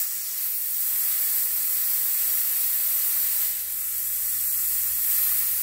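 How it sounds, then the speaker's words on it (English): A FogClean fogger sprays dry fog through a nozzle inside a gym, giving an even, steady hiss that runs unbroken and fairly loud throughout with no talking. "We're gonna fog everything"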